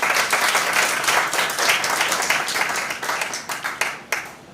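Audience at a high school debating competition gives a round of applause, dense continuous clapping that thins out and scatters toward the end, with little talk.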